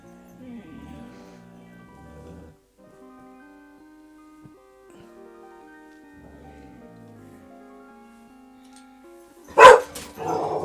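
A pet dog named Rory growls and then lets out a loud, sharp burst of barking near the end, with a voice talking gently over the low growling beforehand.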